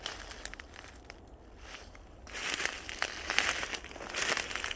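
Thick, long-overgrown blackberry brush is cut and pushed through while clearing an ATV trail, giving close crunching, crackling and rustling that grows busier and louder toward the end, with no speech.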